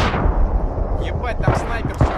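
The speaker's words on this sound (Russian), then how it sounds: "Оп, еще гранатку туда." Grenade blasts in the video game Battlefield 3 land as deep, rumbling booms within a constant low roar of battle noise, with sharper thumps near the end.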